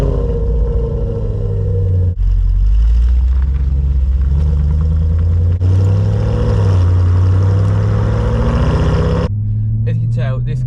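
Audi RS5 V8 engine on a drive, a loud continuous close-up rumble with rising and falling revs, with gear-change dips and a brief burst of talk at the end.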